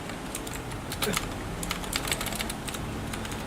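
Rapid irregular keystrokes clatter on a computer keyboard, close and moderately quiet, over a faint steady background hum.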